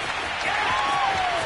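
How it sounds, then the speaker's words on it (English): Roaring stadium crowd cheering a Miami touchdown in the Madden 22 football video game, a dense, loud, sustained wash of applause and shouts with a faint rising whistle-like tone over it. "I think it's fair to say there's nothing that gets a crowd to its feet quite like a big play"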